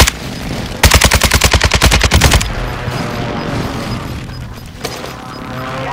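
Rapid airstrike gunfire in the video game Warzone: a loud, close burst of about a dozen evenly spaced shots over roughly a second and a half, followed by rumbling echoes and a lone later crack.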